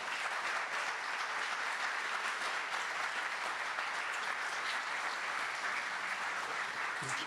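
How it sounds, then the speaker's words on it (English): Sustained applause from a large crowd at a fire rescue department change of command ceremony, steady and fairly loud throughout with no break. "Let's give him a round of applause."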